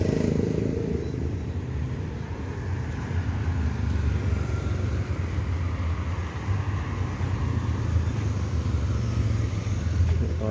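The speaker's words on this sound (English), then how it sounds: "The motorbike taxi." A motorbike taxi on a busy Patong street in Phuket, Thailand, rumbles past amid constant traffic noise, its engine drone loud and continuous over the whole stretch.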